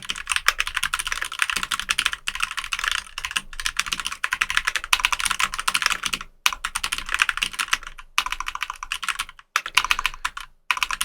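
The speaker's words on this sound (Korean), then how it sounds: "좋은 그런 키보드인데 한번 키감을 들려보도록 하겠습니다." Continuous close typing on a Keychron K10 mechanical keyboard with red switches, rapid clacky keystrokes with a few brief pauses, no voices.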